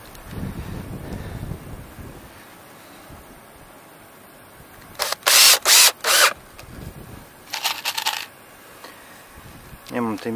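Cordless screwdriver, the larger and heavier of two, driving screws into plumbing pipe fittings. It gives three short loud whirring bursts in quick succession, then a couple of fainter runs, with wind noise and handling sounds between them.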